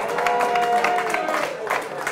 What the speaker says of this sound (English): give Darren a round of applause as well